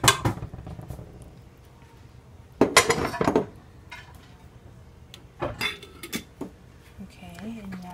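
Spaghetti being tossed with sauce in a home kitchen pan, with scattered utensil clinks and scraping bursts against the cookware between quieter stretches, fairly close and intermittent.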